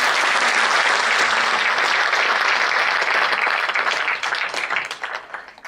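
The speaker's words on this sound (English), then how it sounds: "Let us welcome him again and give a big round of applause." A large audience applauds loudly to welcome Olympic shooter Abhinav Bindra at a university leadership talk, with dense, sustained clapping that holds steady and then thins into scattered claps near the end.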